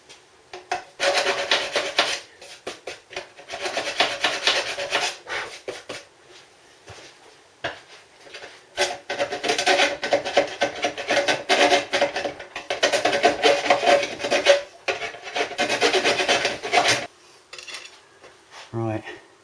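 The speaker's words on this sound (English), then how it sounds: "Little deburr." A hand file is worked across a metal motorcycle part to deburr it, making close, loud rasping scrapes in repeated strokes with short pauses between bursts.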